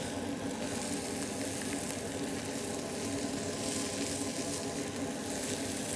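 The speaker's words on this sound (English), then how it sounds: "So the bhindi which we have fried is going in." Fried okra (bhindi) tipped into onion gravy for bhindi do pyaza in a hotel kitchen, a steady close sizzle with soft stirring, no talk.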